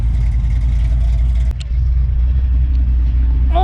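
A 327 Chevrolet Impala V8 with an untuned carburetor and a draw-through turbo setup idles while warming up, giving a loud, steady low rumble that holds constant with a brief dip partway through.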